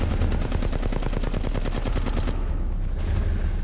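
Automatic gunfire from Apex Legends Mobile rattles in a fast, even stream of close, loud shots for over two seconds, then stops abruptly into a short quieter tail.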